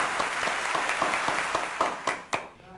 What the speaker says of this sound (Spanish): que sin duda merecen un gran aplauso